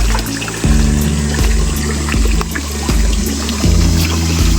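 Water flowing and trickling at a clear spring with a reddish bed among rocks while a woman fetches water, a steady close splashing stream with a few rhythmic surges.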